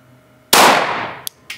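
A single loud pistol gunshot at a practical shooting training range, a sharp close crack with a ringing decay, followed by a couple of faint metallic clicks.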